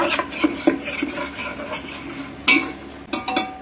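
Broiler chicken curry masala being stirred and fried in a pan, a spoon repeatedly scraping and clinking against the metal over a soft sizzle, close and irregular, with no talk.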